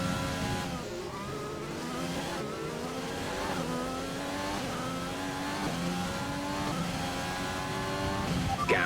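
Formula 1 cars race on the wet Belgian Grand Prix circuit in the F1 2020 video game, with engine notes repeatedly climbing and dropping through gear changes at a steady, moderate level.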